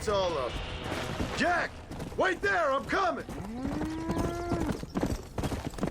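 Cattle moo several times in a row, loud and close, with drawn-out calls overlapping a busy background of Red Dead Redemption game sounds and occasional voices.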